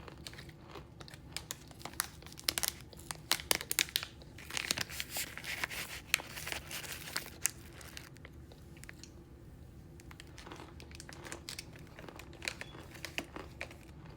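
Crunchy cereal toppers eaten from a bag, with crinkling plastic and sharp close crunches and chewing in bursts, loudest midway, with no talk.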